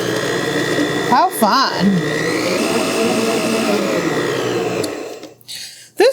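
A mini 3.5-quart stand mixer creams ingredients for zucchini bread, a steady loud motor whir running for about five seconds before cutting out, with a short spoken exclamation and a cheer over it.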